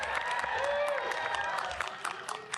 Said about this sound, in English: How about a round of applause to you